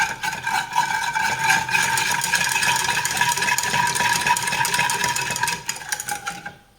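Cream is stirred with sugar in a pan, giving a continuous rattling, scraping texture with a steady rhythm that fades out at the end.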